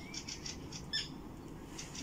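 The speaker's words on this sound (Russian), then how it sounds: "Птички поют, да?" Faint, distant bird chirps repeat in short bursts over a low outdoor background hum at an abandoned water pumping station, with no talking.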